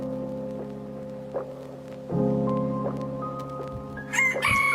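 A rooster crows loudly and close, one long drawn-out call that breaks into higher squawking notes toward the end.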